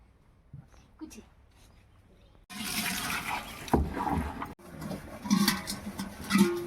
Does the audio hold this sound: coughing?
no